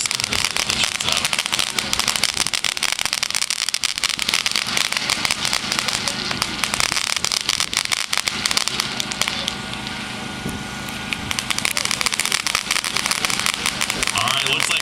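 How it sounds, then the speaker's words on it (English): Ground bloom flower fireworks from a Now or Never item spin and crackle continuously, a dense loud fizzing crackle lasting throughout with bursts of popping, heard at close range outdoors. "And now or never is actually going to be shooting out ground bloom flowers out of there."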